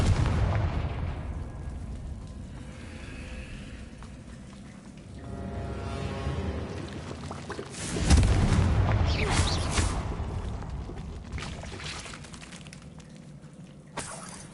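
A Confringo blasting spell goes off in Hogwarts Legacy with a loud, booming explosion and rumbling debris, followed by a long decaying roar, then a sharp pop near the end.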